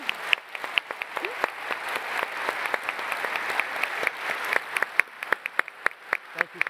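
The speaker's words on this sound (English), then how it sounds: "we can give him one more clap" Audience at a university evening event with Nobel laureates gives a sustained round of applause, a dense wash of clapping with sharper individual claps standing out toward the end.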